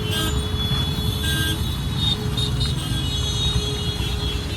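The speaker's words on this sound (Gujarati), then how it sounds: "ટ્રાફિક." Heavy road traffic rumbles steadily nearby with engine drone and faint distant horn toots, no talk over it.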